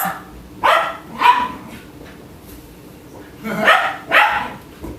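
A dog barks in four loud, close bursts spaced in two pairs, with quieter gaps of room noise between them.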